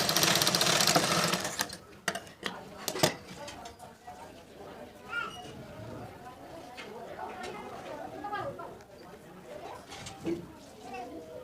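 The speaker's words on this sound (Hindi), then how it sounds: "गोलाई की साइड में हम एक चाप की सिलाई लगाएंगे" A sewing machine runs a quick, loud burst at the start while stitching an arc along the curved neck of a lined blouse, then fades to quieter handling sounds under talk.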